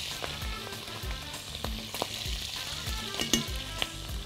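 Close, crackling sizzle of food frying in a pan while salt and pepper are sprinkled over it, with occasional stirring clinks and scrapes and no talk.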